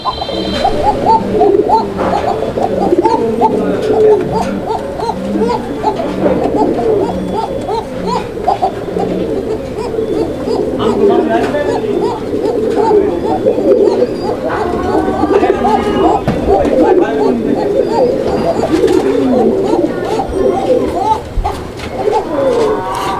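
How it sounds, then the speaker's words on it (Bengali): Koka pigeons at a pigeon farm cooing loudly and almost constantly, overlapping rolling coos from several birds close by, with occasional chirps and voices in the background. "আর কোকাটা কিন্তু একদম ভরপুর ডাকের একটা কোকা ঠিক আছে প্রচুর পরিমাণে ডাকে প্রচুর ডাকাডাকি করে দেখেন আপনারা"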